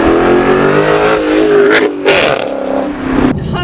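A 2006 Chrysler 300C SRT8 with a 6.1 liter Hemi V8 and rear-wheel drive accelerates hard on a cold day, its engine roaring loud and close with rising pitch and brief gear-change dips.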